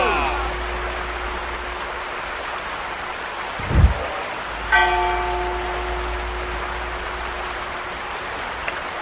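Alarm bell in a medieval lord strategy game, Age of Frostfall, struck once with a ringing metallic tone that decays over several seconds, preceded by a low thud, over steady rain-like ambient hiss.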